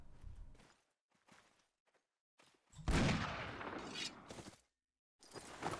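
A rifle shot in the video game Mount and Blade Warband, set in an 1860s Old America mod: a loud, sharp blast around the middle of the clip, with a noisy tail. Softer, brief thumps and quiet gaps come before it.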